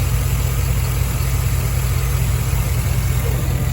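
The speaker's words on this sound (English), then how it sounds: "you can hear that engine turn and running." 2010 Chevy Avalanche LT engine idling steadily at close range, an even low rumble with a smooth mechanical hum and no revving.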